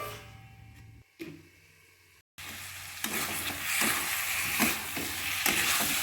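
Boiled jackfruit curry with spices frying in a pan, a quiet steady sizzle with stirring scrapes after a brief gap.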